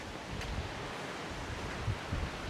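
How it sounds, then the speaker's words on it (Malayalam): Strong wind at the Palakkayam Thattu hill viewpoint buffets the microphone with a steady rushing roar and occasional low gusty thumps. "നല്ല കാറ്റുണ്ട് കേട്ടോ ഇവിടെ നല്ല കാറ്റാണിപ്പോൾ"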